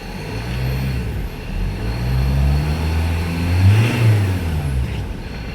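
A Ford engine, just back from a top overhaul done to fix overheating, is revved up and down nearby, a loud throaty roar that rises and falls in pitch across several swells with no talking.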